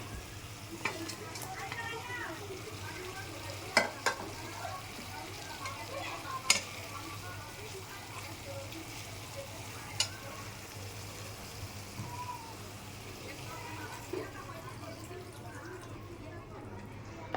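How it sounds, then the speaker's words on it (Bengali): Koi fish frying in a pan with spices and capsicum gives a soft, steady sizzle with occasional stirring scrapes and clinks, while a person talks over it. "মশলা ভুনা হয়ে গেছে শিমলার সঙ্গে। এখন মাছটা দিয়ে দেব।"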